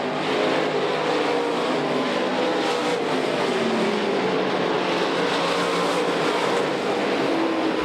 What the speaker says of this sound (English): That Dirt Late Model Magazine McCreadie Group Performance Bodies car down the back straightaway.